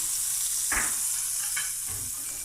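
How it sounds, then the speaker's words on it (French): A spoonful of butter sizzles in hot oil, giving a steady, soft frying hiss broken by a couple of quick stirring scrapes. "Avec mon huile, je vais ajouter tout de suite une bonne cuillerée à soupe de beurre."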